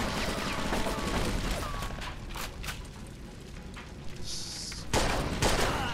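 Gunfire in Mafia 2, a dense burst of shots with sharp broadband cracks and booming low end, several loud reports stacking over game ambience, with heavier blasts near the end.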